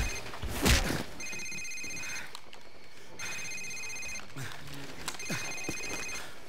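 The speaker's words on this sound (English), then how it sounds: "Sir, it's his cell phone." A cell phone rings in Call of Duty 4 during the Safehouse mission, its electronic trill repeating in three distinct bursts over a low background rumble with occasional thuds.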